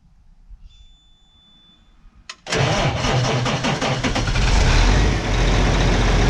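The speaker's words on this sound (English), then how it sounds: "the engine turns over, like it's ready to go" A farm vehicle engine on a Western Australian sheep farm whirs faintly, then abruptly bursts into a loud, steady mechanical roar that carries on close by without voices.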